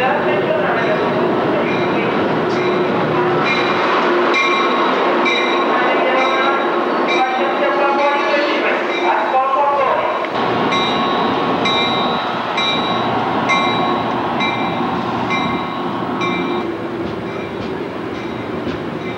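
Train rolling past on a Conrail track in the American Northeast, a loud continuous rumble with rhythmic wheel clatter, squealing metallic tones and occasional high whines throughout.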